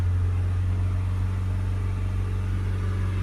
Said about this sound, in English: If we accelerate the vehicle up to sort of 3000 RPM, let's go up